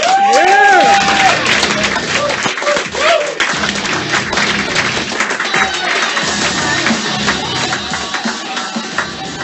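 At a comedy roast show, the audience applauds and cheers after a host's introduction, a burst of clapping that swells and then thins under crowd noise, with a voice speaking over it early on.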